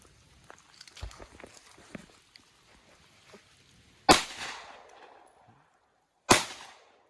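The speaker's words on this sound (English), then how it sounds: "I'm going to shoot 3 at it, just so we can just check out some of its groupings" Two sharp, loud pistol shots from a Taurus G3C or G2C at an 8-yard range, a few seconds apart, each with a brief echoing decay, preceded by soft shuffling and handling noises.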